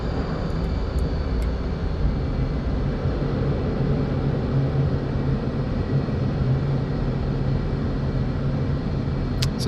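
A Finnish F/A-18 Hornet jet in the DCS flight simulator flying a slow display pass, with a steady, broad engine roar that stays constant and fills the whole stretch without talk.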